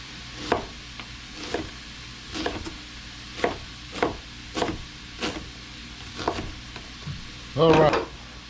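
About 2.5 pounds of andouille sausage hits a hot gumbo pot, giving a series of short sizzling, stirring scrapes at a steady rhythm, close and moderately loud, with a louder burst of frying near the end.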